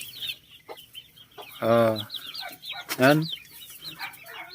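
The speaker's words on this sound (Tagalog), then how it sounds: "Ito yung mga Rhode Island Red X native." Rhode Island Red cross native chickens cluck nearby, with two loud, drawn-out squawking calls among softer clucks. A voice speaks briefly.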